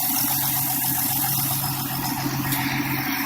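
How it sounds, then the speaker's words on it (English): A Ford Mustang with the 200ci inline-six and a failing alternator that is not charging, idling steadily with a low, even hum and hiss close by, no revving and no voices. "Engine's running."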